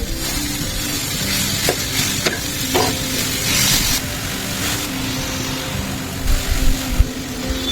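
A spoon scrapes steadily through a wheat and jaggery modak filling in a hot pan, giving a close, continuous stirring and soft sizzling with a few sharper knocks and no talking.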